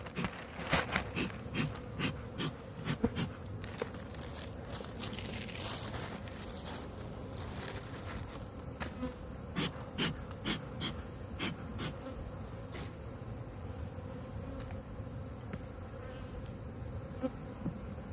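Honeybees buzz steadily around an opened hive during an early-spring inspection, a dense close drone with brief louder swells as bees fly near, no voices heard.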